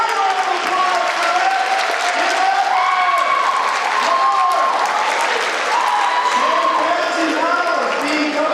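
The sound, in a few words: audience applauding a $10,000 donation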